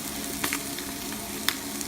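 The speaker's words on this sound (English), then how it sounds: "got a couple pans here of tilapia going at the same time" Tilapia fillets sizzling steadily in a couple of pans greased with Pam olive oil no-stick spray, a continuous close fry with a few brief sharper crackles and pops over the hiss.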